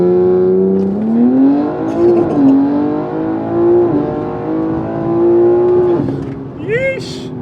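A Porsche GT3 RS accelerates hard in second gear with a loud, rising engine note that climbs through several sweeps and then snaps back as the throttle lifts, close up inside the car, while people talk over it.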